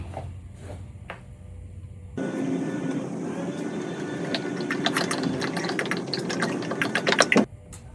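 Motor oil pours from a jug into the engine of a Subaru Forester during an oil change, a steady close gurgling fill with a few clicks and plastic handling sounds, breaking off near the end.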